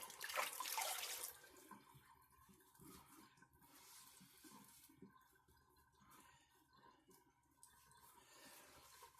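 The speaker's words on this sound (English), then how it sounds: "Let that hot water out of the sink." Hot water rushes and gurgles down a sink drain, loud and splashy at first, then settling into a steady, softer draining trickle.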